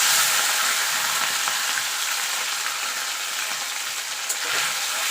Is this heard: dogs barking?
no